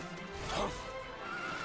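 A spooked horse in a video game lets out a single loud whinny that peaks early and trails off, set against a low steady background hum.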